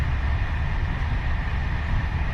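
Steady low rumble inside a slow regional train travelling across France, a continuous rolling drone with no talking.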